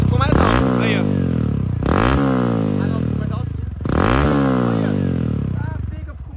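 A Honda XRE 190 motorcycle with a loud modified exhaust revs hard three times in a row, each rev rising and falling close by, with a raspy, crackling tone that stays loud throughout.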